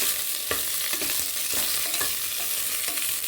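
Sliced okra frying in a pan with a little oil for a lentil sambar, a steady close sizzle broken by repeated scraping stirs of a spoon against the pan, with no voices.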